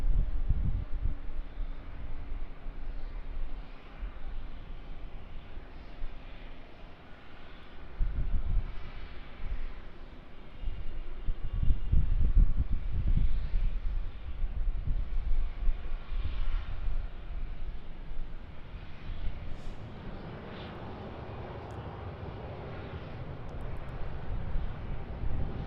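A Boeing 787-9 Dreamliner at Melbourne Airport gives a steady low jet roar that swells in the middle and holds, with wind rumble on the microphone and no talk.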